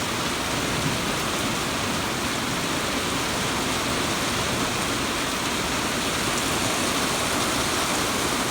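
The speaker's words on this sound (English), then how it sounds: "Now it's just the rain." Heavy, steady overnight storm rain pours down in a constant dense hiss, loud and close, with no voices.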